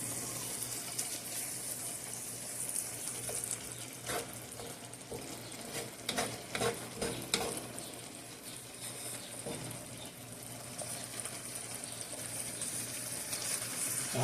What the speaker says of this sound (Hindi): अब हम इसको इसमें अच्छी तरह से भूनते हैं।